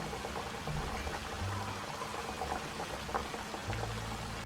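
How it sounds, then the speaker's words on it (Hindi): Chicken patties fry slowly in a pan over low heat, giving a soft, steady sizzle and crackle that continues throughout with no talking. "ये बिल्कुल स्लो आंच पे हमने फ्राई करना है इसे, ताकि अंदर तक पक जाए।"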